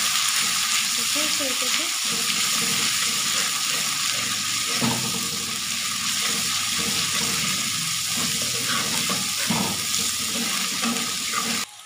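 Garlic frying in a pan for chicken karahi, a steady soft sizzle running throughout with occasional stirring scrapes and light clatter, while a voice speaks briefly over it.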